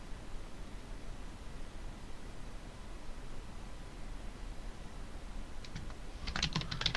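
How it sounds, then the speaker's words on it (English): Computer keyboard typing heard near the end as a short, close burst of rapid clicking keystrokes, after a long stretch of faint background hiss with no talking. "they can hear my keyboard"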